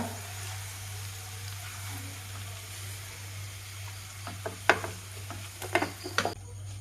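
Sliced onions fry in ghee over a medium flame for ghee rice. A soft, steady sizzle runs under a low hum, then a spoon scrapes and clinks against the pan in a few quick bursts of stirring.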